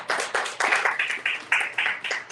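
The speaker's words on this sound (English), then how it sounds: "Just kind of another round of applause." A small audience claps in a steady rhythm of about eight evenly spaced claps at a social discussion event, close and fairly loud with no talking.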